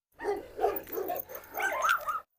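A dog barks and whimpers in a string of short, close, loud calls, coming from one of a pitbull and a large Cane Corso playing together, with no voices over the calls.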